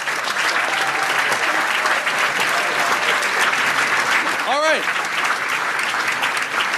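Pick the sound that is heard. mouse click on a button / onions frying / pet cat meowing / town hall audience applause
town hall audience applause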